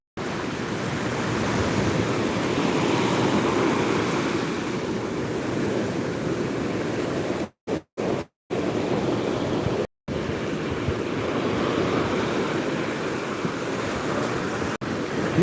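Sea waves crash and wash steadily onto the shore, a loud continuous roar of surf with wind buffeting the microphone and a few brief dropouts.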